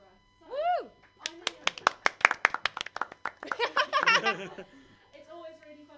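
One person claps alone in a quick run of sharp, close hand claps after a short cheer, followed by a brief spoken word.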